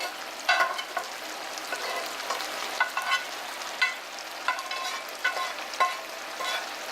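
Tomato sauce is spooned into a sizzling pan of chicken jambalaya with rice, giving a steady, close frying hiss with repeated soft scraping and plopping of the spoon, no talk.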